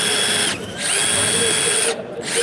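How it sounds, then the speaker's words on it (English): A Milwaukee M12 Surge driver drives fasteners with a close, loud high-pitched whirring hum, cut by two short pauses before starting up again. "This is going to drill in fasteners so quick."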